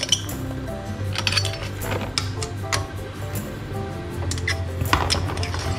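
Glass jars clink and knock together in a home kitchen as they are readied for boiling sterilization, with scattered close clinks and taps over a low steady hum.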